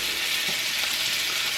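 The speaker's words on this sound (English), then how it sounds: "And you hear that sizzle?" Steaks sear in extremely hot olive oil in a pan, giving a loud, continuous close-up sizzle with a steady hiss and no talking.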